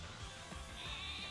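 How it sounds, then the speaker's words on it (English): A Wooloo sheep cry from the Pokemon Sword and Shield video game, a short bleat heard up close against faint background game audio, with no talking. "Oh, finally some more sheep."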